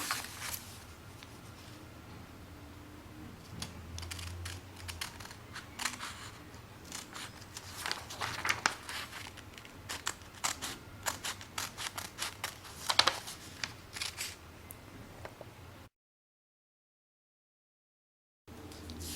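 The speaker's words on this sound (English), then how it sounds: "Make sure to only cut into 3 strips, and then cut along the 3rd strip this way." Scissors cut paper into strips for an origami gift-wrapping ribbon, quiet repeated snips and crisp cuts in close succession, followed by a short silence.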